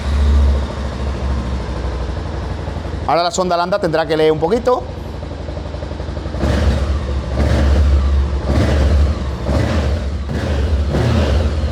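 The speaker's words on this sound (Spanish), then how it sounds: "Vamos a ponerlo en on y vamos a darle al contacto. Y a ver si la moto funciona bien." A Voge 525/625 DSX motorcycle engine, just fitted with a Power Flow intake, starts up, then is revved in several rising bursts between steadier running, loud and close. Someone speaks over the engine early on.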